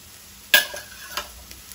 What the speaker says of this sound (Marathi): हे सगळें आता आमकां बरें मिक्स करून घेवपाक जाय।